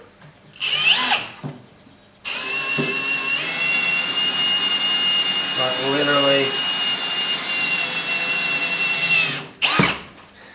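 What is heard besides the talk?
power drill drilling steel Nerf bars with a sharp bit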